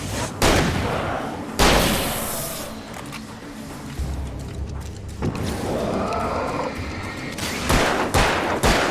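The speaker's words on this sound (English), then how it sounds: "Bunch of flares and flashbangs." Flares and flashbangs going off in the game Alan Wake: a few loud bursting bangs spread out, with hissing, rumbling stretches and mechanical clatter between them, no talking.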